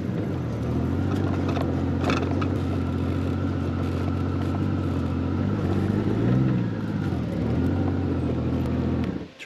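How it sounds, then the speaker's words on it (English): A motorcycle engine runs steadily at idle outdoors, a continuous low rumble that holds near and even, swelling slightly once before cutting off at the end. "Turn off the bike."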